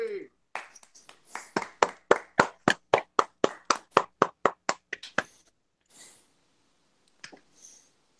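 A small audience at a movie trivia championship match claps in a short, even burst of about twenty crisp, close claps that stops abruptly, followed by a few faint scattered sounds.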